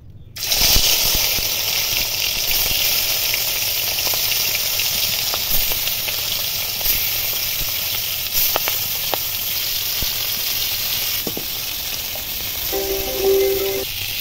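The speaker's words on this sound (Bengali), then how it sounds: "কড়াইয়ে তেল গরম করে নিয়েছি, এবার মাছগুলো ভেজে নেব" Fish sizzling as it fries in hot oil in a wok, a steady bright hiss with scattered pops and crackles throughout, fairly close and with no speech.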